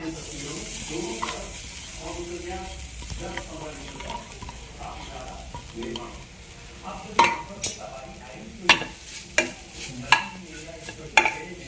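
Ground coconut sizzles softly in a pan while a spoon scrapes and stirs, with several sharper scraping knocks toward the end and a voice talking over it.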